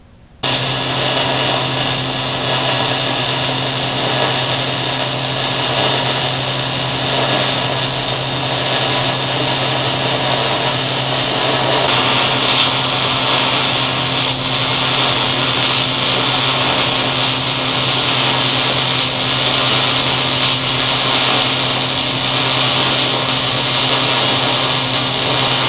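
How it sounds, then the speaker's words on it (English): A welder works steadily on metal parts for a homemade shingle cutter, a loud, unbroken electric buzz and hum that holds for nearly the whole stretch after a brief quiet start, with no voices. "I'm going to get my welder out and get these all welded up"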